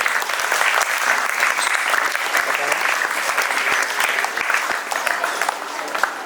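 An audience at a felicitation ceremony for arts and acting mentors claps loudly and steadily for several seconds, with voices audible underneath the applause.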